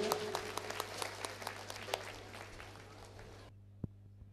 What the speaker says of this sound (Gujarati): એક વખત આપણે સર્વે મહેમાનોને જોરદાર તાળીઓથી વધાવી લઈશું.